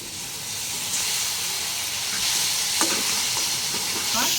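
Spices including chili powder, cumin paste and green chili are stirred and fried in a pan for a rohu fish curry with pumpkin; a steady hiss of sizzling oil runs throughout, with scraping stir strokes toward the end.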